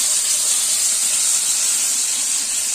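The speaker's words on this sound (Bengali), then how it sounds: "কিরকম ভাবে তেল ছিটছে দেখো।" Fish frying in hot oil gives off a loud, steady, close spattering hiss with no break across the clip.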